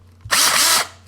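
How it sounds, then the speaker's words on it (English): A power drill with a bit fitted spins up in one loud, close, steady burst of about half a second, then stops, with no voices. "I can drill it the other way now"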